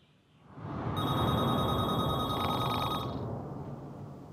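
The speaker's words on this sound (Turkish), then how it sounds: "Kalk, telefon çalıyor." A telephone rings loudly and close by for a few seconds, a bright electronic bell tone over a noisy room background, then cuts off and leaves the ambience.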